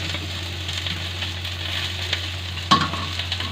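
Fish frying in oil in a pan, a steady close sizzle with a brief louder crackle and spatter partway through, no voices.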